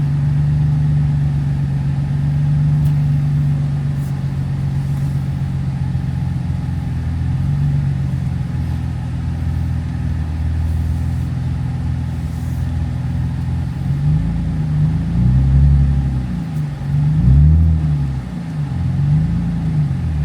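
A Nissan 350Z with a cheap aftermarket exhaust idles and creeps around a yard, a droning, buzzy engine note held steady before several revving pulses toward the end.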